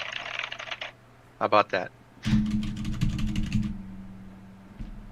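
A computer keyboard being typed on in quick bursts of close, clicky keystrokes, heard alongside brief speech and a low steady hum.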